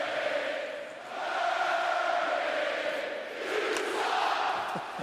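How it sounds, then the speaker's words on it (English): A packed Nashville hockey arena crowd roaring during a playoff game after a goal, a loud sustained wall of cheering and yelling that swells and dips slightly. "This was the crowd in Nashville when Murray allowed a goal."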